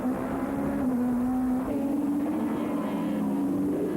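A 1994 supertouring race car recorded on board at the Ledenon circuit, with a loud continuous engine drone that holds a steady pitch and rises slightly as it accelerates, close and alone.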